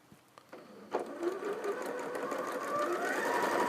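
A sewing machine stitches quilt fabric along a bias edge, with a few light clicks at first and then a steady whirring run that builds slightly and holds, close and fairly quiet.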